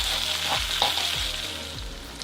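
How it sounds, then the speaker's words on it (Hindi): Sliced onions sizzle in a hot pan for a fish curry, a constant close crackle with periodic soft stirring strokes and no voices. "थोड़ा सा इसको प्याज को फ्राई करेंगे।"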